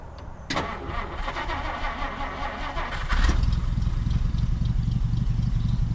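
A 1950 Dodge Meadowbrook engine cranks with a rough, uneven churn, then catches about halfway through and settles into a loud, steady idle rumble.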